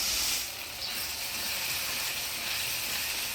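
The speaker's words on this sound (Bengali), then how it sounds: "জল দিয়ে মশলাটা ভালোভাবে কষিয়ে নেব" Ground spice paste of coriander, cumin, ginger, chilli, garlic, turmeric and salt frying with water in a pan for jackfruit and prawn curry, a steady broad sizzle and hiss throughout, loud and close.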